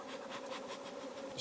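Honey bees buzz steadily around a beekeeper working an open hive in a bee yard, a close continuous drone with wavering pitch, ending in a brief bump.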